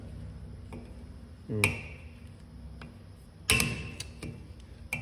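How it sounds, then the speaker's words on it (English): A screwdriver levers at a stuck rear wheel bearing part on a Ford Fiesta, giving two sharp metallic clanks and a few lighter ticks and taps, close and clear, with no talking. "Get your little trusty dusty screwdriver in there."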